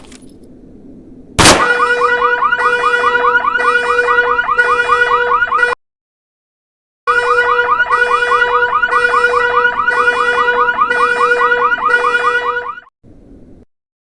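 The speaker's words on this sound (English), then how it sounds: "next clip that I want to show you, stop it, is this one here. Dynamic car alarms." In Escape from Tarkov, a car alarm goes off after a sharp loud impact and blares a fast, looping warbling tone, cuts out for about a second, then resumes at full volume before stopping abruptly.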